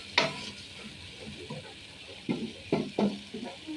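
Fresh fish with winter vegetables sautés in a pan, giving a faint, low sizzle under a few distinct spatula scrapes and knocks against the pot.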